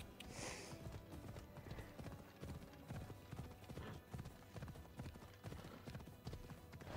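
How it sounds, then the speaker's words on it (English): Rhythmic hoofbeats of a horse clip-clopping at a steady gait in the video game Assassin's Creed Odyssey, faint and continuous with a brief whinny-like sound near the start. "You're a random horse, but you work."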